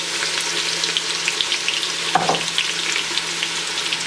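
Steady sizzling and crackling of chopped onions and whole spices, including black cardamom, frying in a hot pan over high flame, with a brief stir or scrape partway through.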